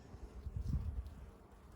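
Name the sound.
honey bees buzzing in a top bar hive swarm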